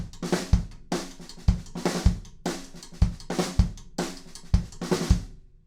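Drum kit plays a verse beat with rim clicks in place of hi-hats, steady kick and snare hits repeating in a driving pattern, close and clear with no talk.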